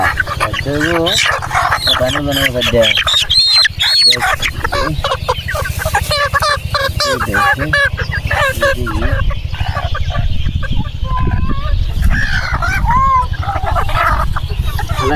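Chickens cluck repeatedly amid a busy, noisy scene, with people talking over them throughout.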